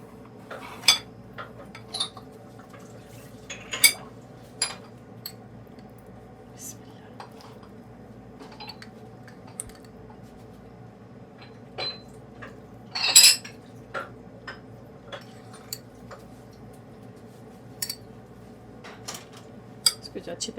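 A spoon mixes butter, white vinegar and spices in a bowl for a roast turkey, giving sparse, light clinks and scrapes at irregular intervals over a quiet, low room hum.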